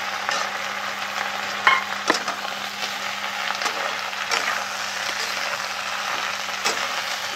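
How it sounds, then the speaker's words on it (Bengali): Eggplant pieces frying in a pan after fish for a kopir data chorchori, a constant moderate sizzle broken by a few sharp stirring knocks and scrapes. "বেগুনগুলো একটু ভাজা ভাজা করে নেবো"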